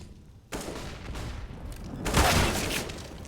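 Gunfire in a Counter-Strike match on the Mirage map, a burst of shots starting abruptly and building into a louder volley, moderately distant, no talk.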